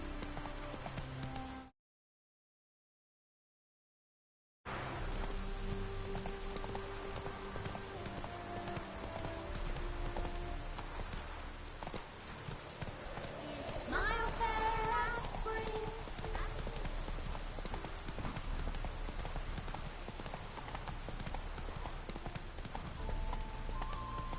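Hooves clip-clop at a steady galloping rhythm through a PS4 video game scene, loud and continuous after a brief silent gap, with game sounds and occasional voices layered over them.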